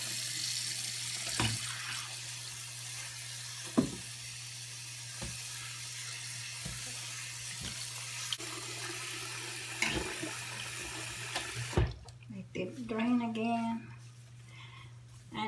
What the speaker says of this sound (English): And I'm going to rinse it until all the detergent had been washed away.